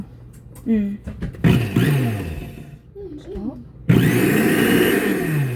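A Hamilton Beach smoothie blender grinding ice whirs in short loud bursts, stopping and starting, with people talking between and over the grinding.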